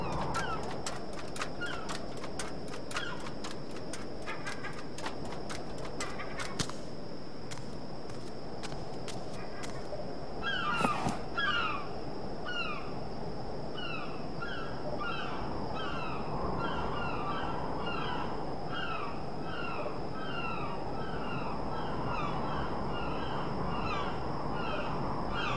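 Seagulls in the video game Submerged call again and again over a steady bed of wind and water ambience, their repeated cries coming in clusters throughout, fairly soft and at mid distance.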